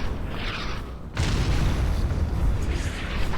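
A unit in a video game fires over and over on an attack-ground order, giving a heavy boom and then a sustained loud rumbling blast.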